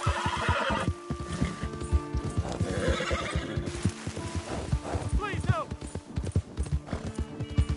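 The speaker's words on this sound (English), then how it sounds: "Damn horse." A horse in the western game Red Dead Redemption II neighs in rising whinnies while its hooves clip-clop in a quick, steady beat close by. Speech runs alongside the hoofbeats.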